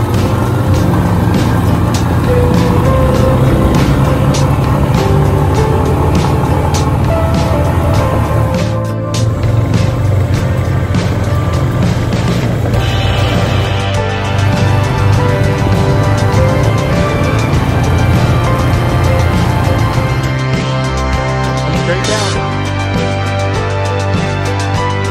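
A vehicle engine labors up a hill on a hay farm, loud, close and continuous, its drone held steady throughout.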